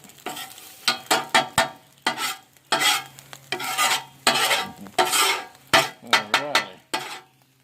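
Japanese fried rice with egg stirred and scraped around a hot pan, loud rhythmic scraping strokes of a metal utensil over a continuous sizzle, close and dominant throughout.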